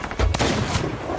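Cannon shots fired in the Sea of Thieves game boom in a quick pair of heavy blasts, loud and close, with a rumbling tail.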